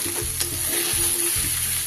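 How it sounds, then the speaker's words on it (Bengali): Rice for ilish pulao (hilsa pilaf) fries dry in a pan, a steady bright sizzle with a few soft scraping stirs, close and alone. "চালটা কিন্তু আমার সুন্দরভাবে ভাজা হয়ে গেছে"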